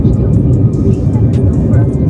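Steady, loud low-pitched roar of an airplane cabin during flight, a constant engine drone with no pauses.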